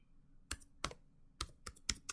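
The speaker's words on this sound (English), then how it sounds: "just ignore my crazy typing" Quiet, irregular clicks of typing on a computer keyboard, several sharp keystrokes scattered in small clusters over a faint background, no talking.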